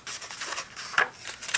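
Thick, heavy perforated sketchbook paper is flipped, giving a few short crisp rustles and a sharp papery swish close up in a quiet room.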